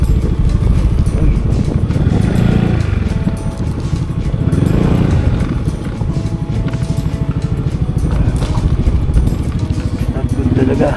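A motorcycle rides along a road in Lobo, Batangas, its engine droning steadily and close with rumbling wind noise, while riders' voices talk over it.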